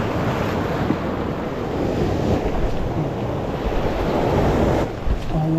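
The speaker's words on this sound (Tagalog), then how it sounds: "Grabe yung alon, ha?" Big ocean waves surging and crashing against a rocky shore, a continuous loud roar mixed with wind buffeting the microphone, with no talk.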